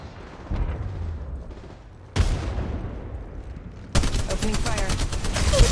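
Gunfire in the mobile shooter Apex Legends Mobile: loud bursts of rapid automatic fire in several sharp bouts, with game voice lines heard among the shots.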